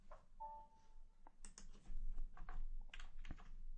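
Fingers type on a computer keyboard in short uneven bursts of close, crisp key clicks, quiet at first and then livelier and denser, with no one speaking.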